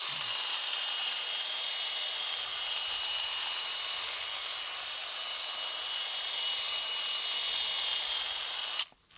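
A Milwaukee M12 detail hedge trimmer with an 8-inch blade makes bevel cuts, giving a steady, close buzzing drone that holds for about nine seconds before cutting off abruptly.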